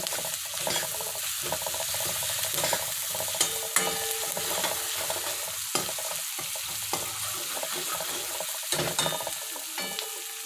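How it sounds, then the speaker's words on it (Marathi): Ginger, garlic and coriander paste sizzles and fries steadily in hot oil, with a spoon scraping and stirring through it in the pan, close and continuous for the whole stretch. "आता यात अद्रक लसूण कोथिंबीरची पेस्ट टाका आणि ते तेलात व्यवस्थित मिक्स करून घ्या"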